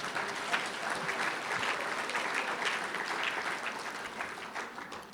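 Steady, moderately distant applause from a crowd at a community state-of-the-region address, dense and even throughout with no voices standing out.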